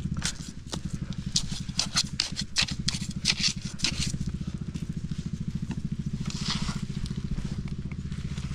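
Small outboard-powered fishing boat in the Philippines pulling away, its steady rapid engine putter running throughout beneath splashes and clatter.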